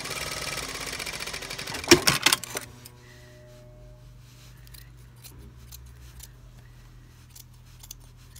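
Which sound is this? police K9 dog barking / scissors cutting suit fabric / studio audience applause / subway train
scissors cutting suit fabric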